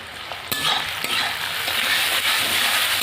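Onion and garlic frying in a pan with salt and turmeric, a steady loud sizzle that starts abruptly and carries on, with faint stirring scrapes and no talk.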